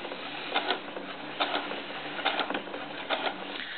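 A sewing machine stitches fabric for handmade fabric roses, running in short rhythmic bursts of needle clatter with brief pauses between runs, steady and close.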